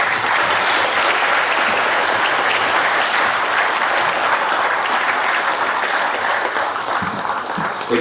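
Sustained, dense audience applause at a Hmong-Lao Veterans Day celebration as veterans stand to be honored, steady and loud throughout with no speech over it.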